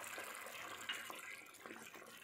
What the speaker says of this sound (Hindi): इसमें 1/2 cup पानी और 1/2 cup चिकन की यखनी ऐड कर देते हैं।